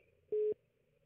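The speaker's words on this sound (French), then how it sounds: "Eh, communication, amis, a toujours tombé malheureusement." A single short telephone busy tone after a dropped call, one clean steady beep lasting about a fifth of a second against faint line hiss.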